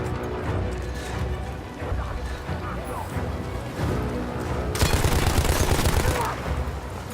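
Gunfire in Battlefield 1 against a heavily armored enemy, a dense run of shots and bursts under someone talking, growing louder and more crowded toward the end.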